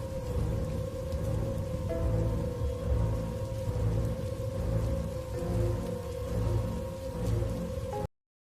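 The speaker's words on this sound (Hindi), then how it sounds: "इसके बाद कुछ देर सिर पर लगातार बारिश की आवाज के अलावा कुछ सुनाई नहीं दिया।" Heavy rain pours down in a steady, dense patter with a low rumble beneath, continuous and moderately loud until it cuts off abruptly at the end.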